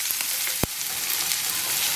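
Onions frying in a pan for shakshouka, a steady close hiss of sizzling with one sharp clack of a stirring utensil partway through.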